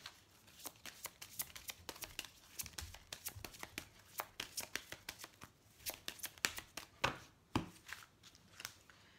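Oracle cards being shuffled by hand, a quiet, close series of crisp riffling flicks and slaps in an uneven rhythm, with no talk over them.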